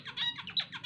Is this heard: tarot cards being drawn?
no